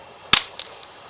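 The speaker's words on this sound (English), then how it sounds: "You hear, that's the sound of a good flake right there." A hammerstone strikes the edge of a chert stone and knocks off a big flake with a single sharp, crisp crack. Two much fainter ticks follow in a quiet outdoor setting.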